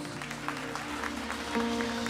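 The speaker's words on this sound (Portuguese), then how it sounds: "Vamos aplaudir o Senhor com mais força?" Congregation clapping during a baptism service at a church, a brief stretch of rhythmic applause mixed with sustained music and tones in the background.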